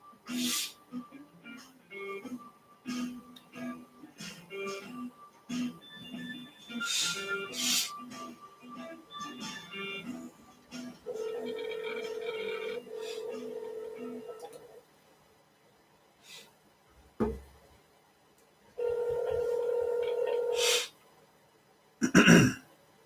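A phone call rings out through a handset: two long, steady electronic ringback tones, each a few seconds long with a pause between, preceded by short dialing beeps and clicks.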